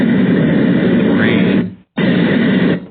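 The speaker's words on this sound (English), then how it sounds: "Got a different fan. That's an industrial power fan." Industrial fan setting on a white noise machine, a steady broadband whooshing hum played loudly in two stretches with a brief gap between them.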